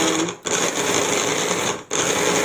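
A blender whirs steadily while blending ingredients for a steamed cassava cake sweetened with nipah palm sugar, a loud continuous motor drone cut by two brief pauses.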